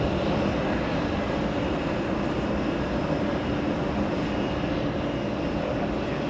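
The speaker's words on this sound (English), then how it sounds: "Very early right bank. Jetblue 6871, correction 871" JetBlue jet airliner departing JFK and banking right early, a steady broad engine roar at moderate distance, even and unbroken with no voices.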